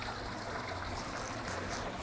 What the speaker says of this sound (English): This creek runs all the way through this house.